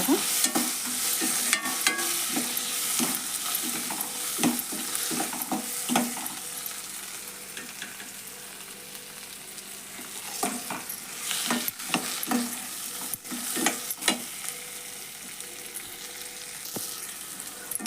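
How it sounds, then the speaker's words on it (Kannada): Tomatoes frying with onions in oil for a lentil palya, a steady close sizzle broken by repeated scraping stirs of a spoon against the pan, with no talking. "ಈಗ ಟೊಮೆಟೊ ಎಲ್ಲ ಫ್ರೈ ಮಾಡೋಣ ಇದ್ರಾಗ"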